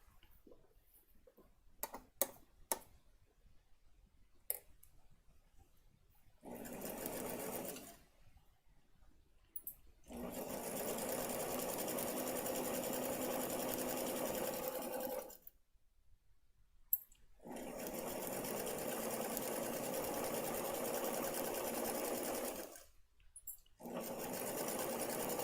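A sewing machine stitches patchwork fabric scraps in several separate bursts of steady running, with short quiet pauses between them and a few faint clicks near the start.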